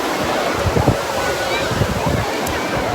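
Surf rolling in at Colva Beach in South Goa, a steady broadband wash of waves with some wind buffeting the microphone, continuous and fairly loud throughout.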